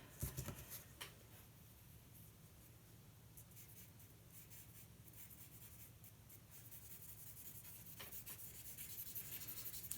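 A pencil scratches and rubs across paper in close, quiet strokes, with a soft, steady graphite hiss and a few sharper marks near the start.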